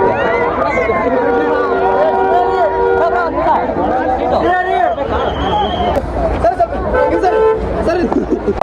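A busy outdoor crowd chatters and murmurs continuously at close range, with vehicle horns tooting repeatedly through the hubbub and a voice speaking over it.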